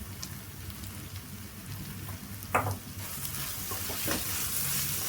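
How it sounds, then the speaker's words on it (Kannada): Fried rice with pepper powder and spices being stir-fried in a pan, a steady soft sizzle with scraping stirs and one sharper clack of the spatula midway, close and alone without talk. "ಪ್ರತಿಯೊಂದು ಮಸಾಲೆ ಹಾಕಿದ್ಮೇಲೆ ಆಲ್ಮೋಸ್ಟ್ ಈ ಥರ ಮಿಕ್ಸ್ ಮಾಡಬೇಕು"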